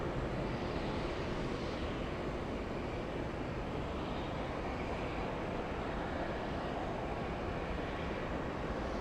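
A Boeing 757 airliner taxis at Atlanta's Hartsfield-Jackson airport, giving a steady, broad jet-engine rumble and whine that holds constant throughout.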